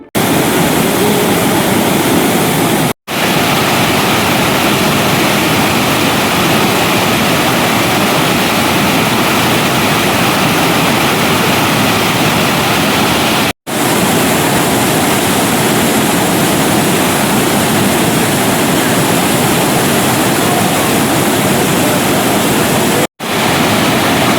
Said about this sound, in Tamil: பொன்னை ஆற்றில் தண்ணீர் பெருகெடுத்து வருவதால்